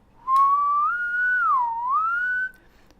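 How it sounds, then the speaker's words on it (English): A person whistles a single sustained tone that starts low, rises, dips and climbs again in a smooth wavering glide for about two seconds, clear and close. The whistle is used to test a whistle-controlled Arduino. "I'm going to sort of try to whistle up and around 1 to 3K"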